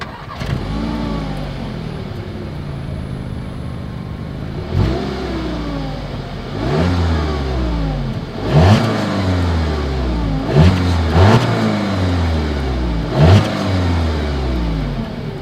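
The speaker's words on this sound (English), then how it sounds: "As always, here is that exhaust clip." A 2020 Audi A3 engine revs repeatedly through its exhaust, with deep rising and falling blips, some sharp throttle stabs, over a steady idling rumble.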